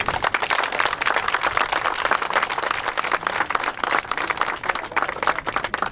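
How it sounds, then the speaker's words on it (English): Audience applause at a Hall of Fame dedication ceremony in Derby, a dense, steady burst of many hands clapping that stays loud and even for the whole stretch with no talk over it. "So I don't have to say, let's give a clap to Jack."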